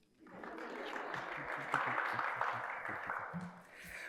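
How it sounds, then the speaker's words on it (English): Audience clapping at a Columbus Metropolitan Club forum, a sustained even patter of many hands at moderate distance, with a few voices and stage movement faintly under it. "Y'all can still keep clapping"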